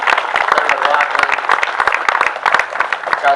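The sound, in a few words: applause for elected officials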